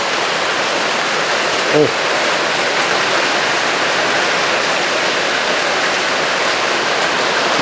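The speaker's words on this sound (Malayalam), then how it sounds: "രാവിലെ തുടങ്ങിയ മഴ ഒരു രക്ഷയില്ല" Heavy rain pours steadily throughout, a dense, even roar of falling water with no pauses.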